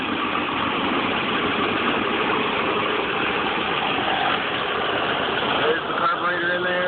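A 1967 Ford Mustang inline-six engine idles steadily after a carburetor rebuild, with a continuous close-up rumble that holds through the whole stretch.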